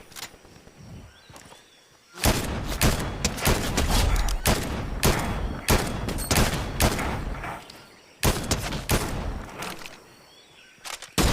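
Video game gunfire erupts after a quiet start: loud rapid bursts of automatic shots, close and dense, with a short lull before another volley near the end.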